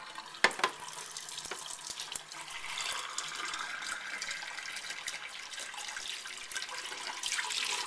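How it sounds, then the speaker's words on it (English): Tap water pours from a faucet into a cup in a steady, continuous stream, heard close and fairly quiet, with a few small splashes and no voices. "I've turned the faucet on. We have the water running."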